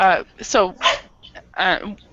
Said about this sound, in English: he doesn't normally bark when I'm teaching